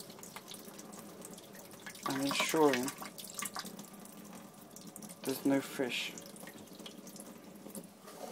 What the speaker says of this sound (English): give it another shot of water until I see the water come out the other side